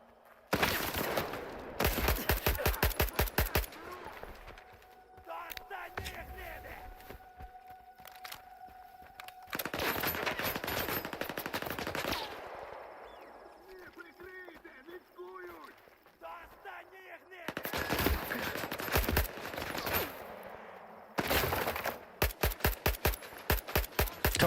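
In S.T.A.L.K.E.R. 2, gunfire comes in loud rapid bursts of automatic shots, separated by quieter stretches with footsteps and movement, and the bursts return several times across the clip.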